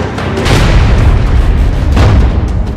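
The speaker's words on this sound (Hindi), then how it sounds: "मिसाइलों के हमले, बमों के धमाके, मशीन गन की दनदनाती गोलियां" Loud, continuous roar of bomb explosions from the war in Ukraine, with deep rumbling booms that swell and surge repeatedly across the stretch, dense and close with no speech.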